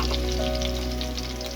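Green chilies and boiled, chopped potatoes frying in a pan with coriander, giving a steady, close sizzle with soft bubbling crackle throughout and no talking.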